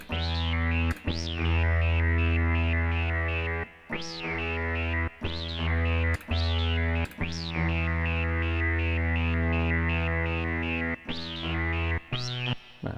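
Prophet 5 synthesizer oscillator A with poly-mod on the pulse width and the filter cutoff raised plays a buzzy, distorted tone in a series of sustained notes broken by short gaps, with swept bright peaks, and no voice over it.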